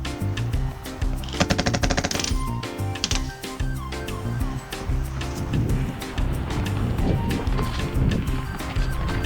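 Airsoft guns fire rapid bursts of sharp, snappy shots, loud and close, with a fast rattling series early on and scattered pops throughout an outdoor game.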